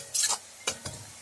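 Sliced onions fry in hot oil in a pan for chicken korma while being stirred, giving a short hiss of sizzling followed by two quick scraping stirs, close and moderately quiet.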